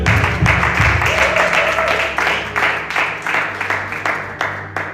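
A church congregation applauds for the Lord in a long, full burst of clapping that gradually thins into separate, rhythmic waves of claps, with a few voices faintly audible among them.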